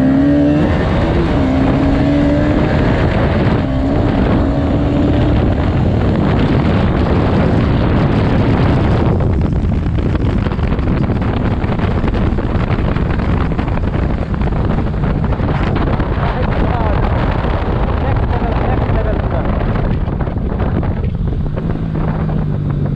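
Two Bajaj Pulsar RS200 motorcycles, a BS4 and a BS6 model, drag racing: loud, continuous engine roar mixed with heavy wind buffeting on the microphone, with the pitch shifting as the bikes accelerate.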